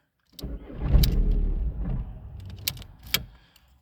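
A Seat Leon 1.9 TDI diesel with an immobilizer fault cranks and fires up, runs roughly for about a second, then dies, leaving a few close clicks and rattles.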